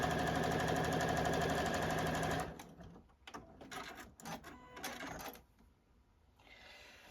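A JUKI sewing machine stitches fabric, a dense, steady mechanical whir running loud for about two and a half seconds, then stopping; quieter handling clatter and rustling follow.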